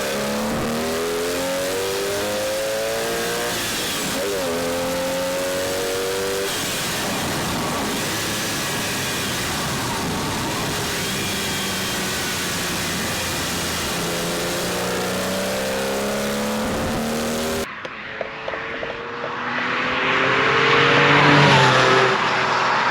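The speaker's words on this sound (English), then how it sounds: "went to start the car" A Porsche 996 with a Hartech engine, just fitted with a new ignition fuse, runs continuously with a steady engine drone and rising revs, loud and close, before the sound changes abruptly to a broader, airier noise near the end.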